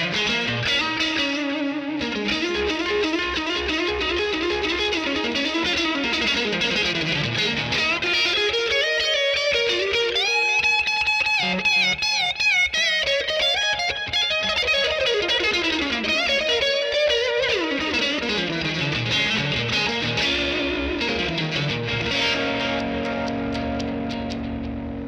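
Stratocaster electric guitar played through an amp for blues and fuzz tones, a continuous loud run of bending, sustained notes with a thick effected, saturated edge and no talk.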